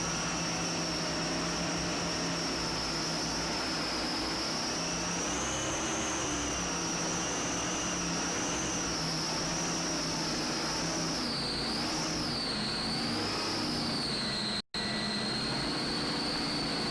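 A 46-foot Skater offshore powerboat with two 1,200 hp Kaiser Wesseldike engines roars steadily and loudly for the whole stretch, a continuous high-powered engine drone with a rising and falling whine, heard alone with no talk.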